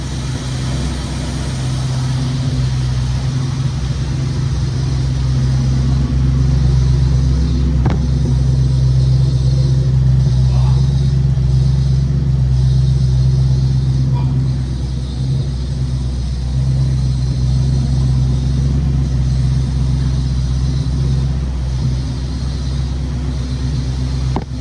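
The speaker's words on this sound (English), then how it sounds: "take a walk around the car, listen to it here, listen to the exhaust" A 1967 Ford Mustang GT Fastback idles steadily nearby. Its engine and exhaust give a continuous deep, loud rumble with slight variations as the listener moves around the car.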